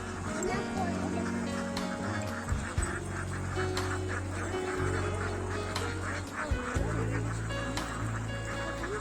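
A flock of ducks quacks and honks continuously, loud and close, in a paddy field, with murmuring voices and crowd noise mixed underneath.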